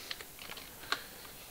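Sparse keystrokes on a computer keyboard while entering a command in a Minecraft ComputerCraft lighting program, a few quiet clicks with one sharper tap near the end, no talking.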